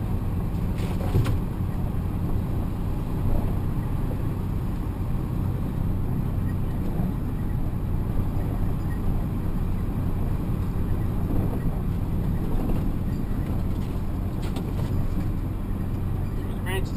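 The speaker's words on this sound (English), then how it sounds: "They have me come up here with a tractor trailer." A steady low engine drone rumbles throughout, with road and wind noise, from inside a tractor trailer truck cruising along bumpy roads.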